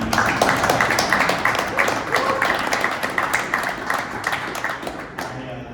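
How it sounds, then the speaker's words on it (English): Audience applause at a live panel with Citizen and a dive team celebrating Eco-Drive, a dense, steady wash of clapping that carries through most of the stretch with a murmuring crowd underneath before tapering at the end. "let's give Citizen a quick round of applause for making this."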